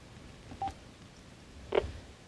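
Incoming caller on a talk radio show, marked by a short, faint electronic telephone tone followed about a second later by a second brief blip, against quiet background.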